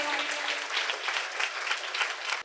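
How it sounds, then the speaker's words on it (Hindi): A church congregation on Palm Sunday claps steadily and briskly, a dense, close burst of applause that stops abruptly at the end. "आपकी भरपूर तालियों में।"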